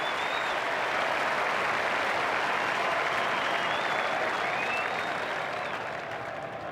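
A big cricket crowd at Adelaide Oval during an Ashes Test between Australia and England applauds and cheers in a dense, sustained roar that holds for several seconds before easing slightly at the end.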